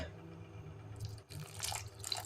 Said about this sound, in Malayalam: ഒരു ശകലം വെള്ളം ഒഴിച്ചു കൊടുക്കാം